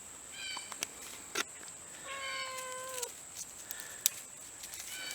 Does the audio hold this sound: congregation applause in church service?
no